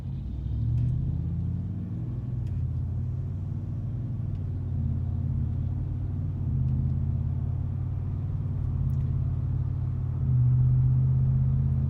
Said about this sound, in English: there's some kind of a resonance that happens where there is some drone at certain RPMs